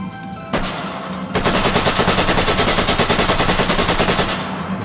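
Sustained automatic fire from an early assault rifle in the VR shooter H3VR, loud and close, a short burst and then a long rapid even stream of shots with no talking.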